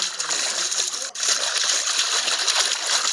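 Splashing while swimming through water in the video game Roblox, a continuous hissing wash of churning water, fairly loud and steady with a brief dip partway through.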